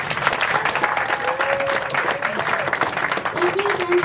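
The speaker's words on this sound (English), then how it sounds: "Let's give them a round of applause." A school audience claps steadily at a student Leadership and Learning Fair, a dense round of applause lasting several seconds with a faint voice and tonal sound running underneath.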